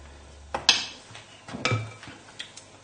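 A spatula scrapes lemon cheesecake mixture from a bowl, giving a few short scrapes and clinks at close range against a quiet background.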